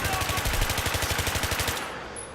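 USAS-12 automatic shotgun in Battlefield 3 fires a rapid, steady string of about twenty booming shots, loud and close, then cuts off into a brief fading tail.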